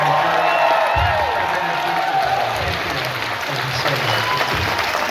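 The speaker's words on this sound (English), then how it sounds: "please a huge Toronto Comic Con applause for the man who took us on the forum" A Toronto Comic Con convention audience applauds and cheers for Andy Serkis, a dense, steady wash of clapping with whoops on top that holds loud throughout, while a voice speaks over it.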